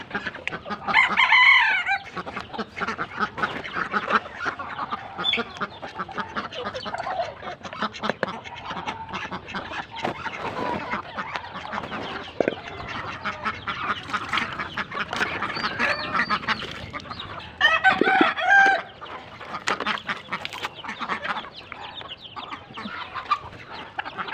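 Hungry ducks and hens feeding together on mash, keeping up a busy, continuous clucking and quacking chatter with a couple of louder crowing calls cutting through, close by and without any talk.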